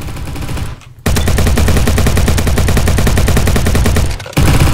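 Rapid automatic gunfire from the Roblox shooter Bad Business, a loud sustained burst emptying a full magazine, with a short gap near the start and another short break before the firing resumes at the end.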